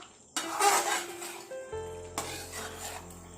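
Chicken being stirred in a cooking pot, a few close metallic scrapes and clinks of a utensil against the pot, then a low hum and a brief knock as the stirring settles.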